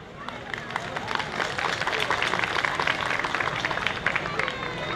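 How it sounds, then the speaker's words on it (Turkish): Crowd applause for villagers at an outdoor village solidarity festival in Çumra, a thick, continuous clatter of many hands with background crowd babble, swelling slightly midway. "Köyümüzün insanlarından bir gönülden alkışı hak ediyorlar"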